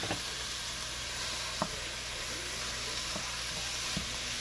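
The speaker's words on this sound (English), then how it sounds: "I'm going to get my ground beef good and brown." Ground beef browns in a pan, giving a steady close sizzle and crackle, with a few faint knocks from stirring.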